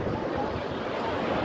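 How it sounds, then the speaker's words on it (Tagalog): Sea waves at a beach at Pinggan, Gasan, Marinduque, a steady loud rush of surf with wind noise buffeting the microphone, continuous and close. "masarap magkipag-tampisaw at makipaglaro sa mga alon, sa bawat hampas ng alon sa Dalampasigan"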